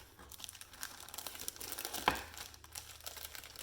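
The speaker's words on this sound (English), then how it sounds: "We're just going to open this one up." Packaging around a DIY string art kit being opened, soft close crinkling of plastic with a brief sharper tear or snap midway, quiet throughout.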